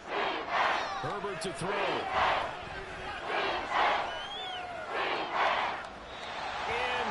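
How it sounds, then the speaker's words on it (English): A football stadium crowd in a video game roars in swelling waves under a play-by-play commentator's voice, the cheering rising and falling several times. "this crowd is making an impact right now"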